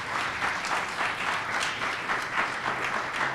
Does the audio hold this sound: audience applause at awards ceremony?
yes